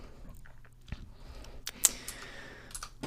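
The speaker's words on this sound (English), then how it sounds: "just press 5 on the keyboard" A single computer keyboard key is pressed once, giving a sharp, close click in a quiet room with faint background hum and a few softer incidental ticks.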